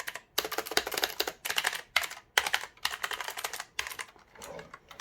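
Hard, forceful pressing on a Cosmic Byte CB-GK-27 RGB gaming mechanical keyboard with blue switches: loud, dense bursts of clacking keystrokes in rapid clusters separated by brief pauses, close up and with no voices.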